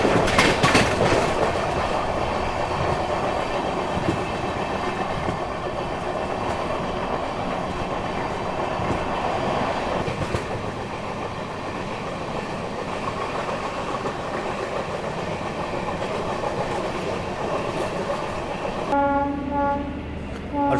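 Mizoram Rajdhani Express train running into Patna railway station, heard from inside the coach as a loud steady rumble with clattering wheels over the rails, a horn sounding near the end, and no talking.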